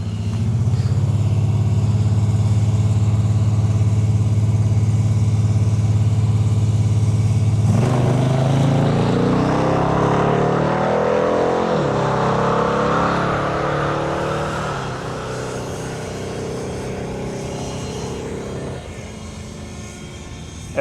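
Stock Cadillac Escalade ESV, a heavy SUV of about 6,000 pounds, launching down a drag strip with a loud sustained engine roar that rises in pitch through the gears, then recedes and fades into distant rumble.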